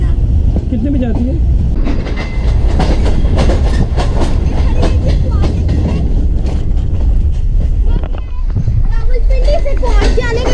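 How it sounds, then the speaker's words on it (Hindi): The Kohat Express passenger train pulls out of a station, its loud rumbling and rhythmic clickety-clack of wheels running steadily close by, with voices talking over it. "कोहाट एक्सप्रेस जाने वाली है, इसको कैप्चर करते हैं।"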